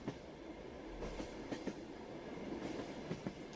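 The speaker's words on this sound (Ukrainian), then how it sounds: "За небокраю, наче гуркітливе пришестя, сунув локомотив." A train rolls along the rails with steady low rumble and repeated clickety-clack wheel knocks, a continuous close passing sound with no voices.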